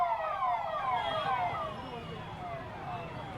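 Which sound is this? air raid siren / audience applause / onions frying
air raid siren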